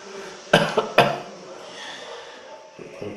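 A person coughs twice in quick succession, close and sharp, during a spinal manual therapy session, followed by quieter breathing and faint low sounds.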